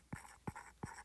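Notes are written by hand in three short, quick strokes spaced evenly about a third of a second apart, faint and close, with no talking.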